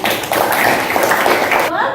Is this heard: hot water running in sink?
no